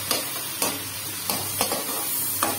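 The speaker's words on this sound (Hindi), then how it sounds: "जीरा एक चम्मच लिया है मैंने, अब यहाँ पर होगी इसकी अच्छी सी भुनाई।" Cumin seeds roasting in a pan, a soft continuous sizzle broken by five evenly spaced scraping strokes of a spoon stirring the seeds, with no talk.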